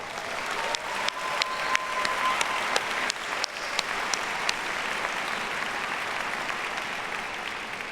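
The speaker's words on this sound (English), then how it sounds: "let's give a round of applause to everyone who made this day possible." Audience applause at an Executive MBA graduation ceremony, a full, sustained round of clapping from a large seated crowd with a few sharper claps standing out, steady and fairly loud from start to finish.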